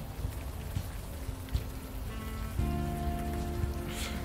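Rain falling in a video game, a steady close hiss of drops on surfaces with soft ambient tones underneath, continuous and moderately quiet, with no talking.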